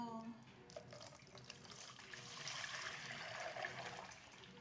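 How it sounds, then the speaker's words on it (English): Milk poured into a covered plastic tub while making homemade yogurt, a steady liquid splash and trickle running close by for several seconds, growing a bit fuller toward the end. "Lagay natin yung milk natin dito."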